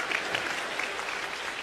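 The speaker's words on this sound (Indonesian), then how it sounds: "Tepuk tangan saudara-saudara." Dense, steady applause from a church congregation during a sermon, a continuous wash of many hands clapping with no pauses across the whole stretch, fairly loud and even.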